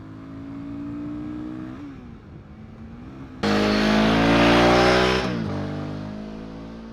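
A Royal Enfield Guerrilla 450 motorcycle rides along twisty roads, its steady engine drone rising sharply as the throttle opens, then easing back, with wind rush during the louder stretch.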